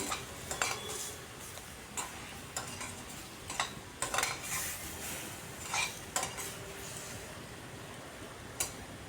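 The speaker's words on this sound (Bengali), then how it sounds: "এবার ঢাকাটা উঠিয়ে আরও একবার নাড়িয়ে দিচ্ছি।" Spices for a rohu fish curry with squash and potato are stirred in a pot after the lid comes off, with scattered metallic scrapes and clinks over a steady low sizzle, moderately close and without talk.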